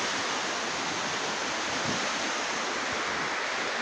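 Budhi Khola waterfall roars as a steady, dense rush of falling water, loud and unbroken with no voices over it.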